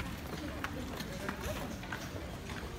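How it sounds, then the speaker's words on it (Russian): Horses' hooves clip-clop on a street on Heybeliada island, a brisk, uneven patter of steps close by, with people talking over them. "Лошадки."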